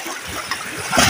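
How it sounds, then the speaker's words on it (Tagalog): Sea waves splash and wash near a boat above a deep spot where giant groupers were sighted, a steady watery churn that swells louder toward the end, with no talk. "laki mga alon"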